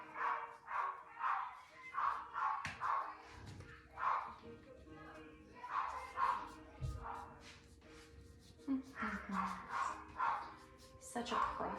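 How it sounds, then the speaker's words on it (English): A dog barks repeatedly at a distance, with steady bursts of barking in short rhythmic runs, pausing briefly midway before resuming, faint and somewhat muffled. "Oh my gosh, that dog."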